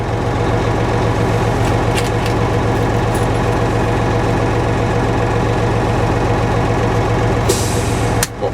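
A heavy truck engine idles with a steady low rumble, then a sharp hiss of released air bursts out near the end as the air compressor cuts out.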